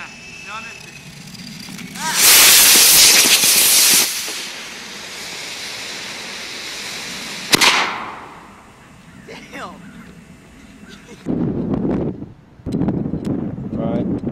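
A remote controlled rocket bike fires its rocket with a loud, broadband roaring whoosh lasting about two seconds, followed by a sharp bang and fading wind noise, then later bursts of voices.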